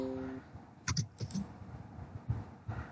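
Fingers type on a computer keyboard, producing a few soft, scattered key clicks in short irregular bursts, close by and quiet, with no talking.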